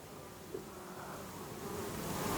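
A steady, dense hum of many honey bees buzzing together at a hive during feeding with honey, continuous and fairly close, with no voices.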